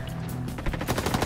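Rapid automatic gunfire in the Roblox FRONTLINES shooter, a fast rattling burst of closely spaced shots that builds and continues loudly to the end, with no voices.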